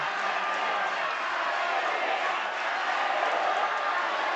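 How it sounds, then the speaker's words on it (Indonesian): A large crowd of supporters at a West Java gubernatorial debate applauds and cheers, a loud, continuous wash of clapping and shouting that holds steady throughout. "kami berikan kesempatan untuk masing-masing pendukung pasangan calon memberikan tepuk tangan yang meriah bagi keempat pasangan calon."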